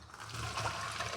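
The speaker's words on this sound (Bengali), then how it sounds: "ঝুড়ির মধ্যে ফেলে এই যে জল ছেঁকে নিলাম" Water draining from boiled taro stolons tipped into a basket, a brief faint splashing trickle heard close by.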